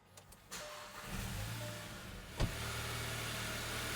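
A VW GTI engine cranks and fires up after new spark plugs are fitted, with brief cranking, a quick rev flare, then a steady idle, close by with no talk.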